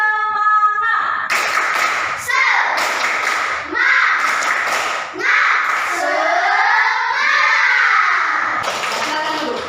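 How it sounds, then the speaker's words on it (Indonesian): Schoolchildren in a classroom repeat a spirited clapping cheer, sharp clap bursts in a steady rhythm mixed with loud group chanting in children's voices. "Sekali lagi, tepuk semangat."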